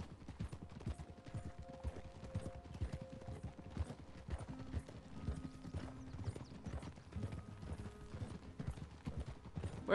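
Steady clip-clop of horse hooves at a trot in Red Dead Redemption 2, fairly faint, with continuous rhythmic footfalls and a few tonal game sounds in the background.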